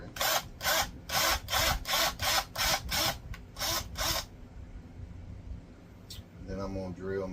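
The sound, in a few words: power drill drilling a hole in wood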